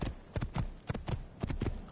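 Horse hooves galloping in the Assassin's Creed video game, a steady rapid clip-clop rhythm of repeated thuds, close and fairly loud, with no speech.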